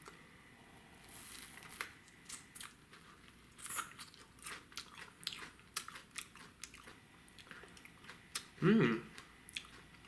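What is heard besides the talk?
biting and chewing a raw tomatillo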